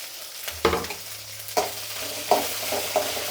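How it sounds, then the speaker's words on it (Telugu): Whole spices, garlic, ginger, and green and dried red chillies sizzle in hot oil in a pan, with several close scraping stirs over a steady fry and no talking. "ఇది బాగా కొంచెంసేపు వేయించుకోవాలి."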